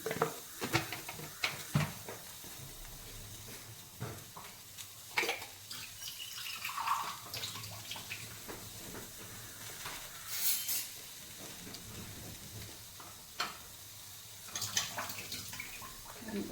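Water is poured into a pan of beans seasoned with salt and turmeric for a Kerala stir-fry, heard as a few intermittent splashing bursts at moderate volume with no talking.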